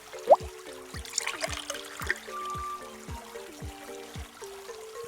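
Cartoon water pouring and trickling into a hole in the ground, a steady gentle stream with repeated low plopping drips over a soft musical background.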